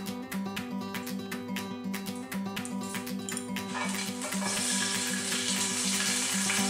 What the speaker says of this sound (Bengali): কিশমিশটা একটু ভেজে নেব